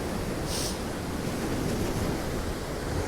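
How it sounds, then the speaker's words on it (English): Big, rough sea waves crashing and rushing continuously on a windy, stormy day at Cleveleys near Blackpool, a loud broad roar with wind buffeting the microphone. "Look at these lovely big waves."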